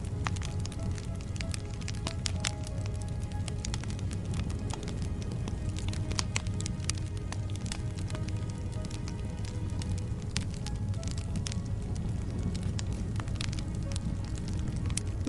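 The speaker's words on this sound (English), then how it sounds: "The fire crackles softly, and we rest beneath the stars." A campfire crackles softly outdoors under the night sky, with steady sharp pops and snaps scattered over a continuous low rumble of burning, no voices present.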